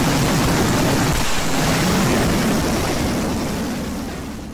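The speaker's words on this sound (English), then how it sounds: "a malfunction triggered a chain reaction, causing all fireworks to ignite together. The resulting explosion resembled a scene from a war movie." Many fireworks mortars explode together after a malfunction sets off a chain reaction, making a continuous, loud roar that stays dense and heavy and then slowly fades.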